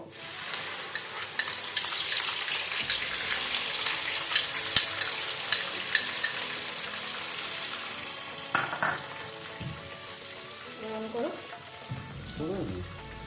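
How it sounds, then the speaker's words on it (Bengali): Onion paste from two medium onions frying in hot oil for restaurant-style chicken bharta, a loud, steady sizzle running throughout with scraping stir sounds; a voice briefly rises over the crackle near the end. "এবার পেঁয়াজটা আমি এই তেলের মধ্যে দিয়ে দেবো"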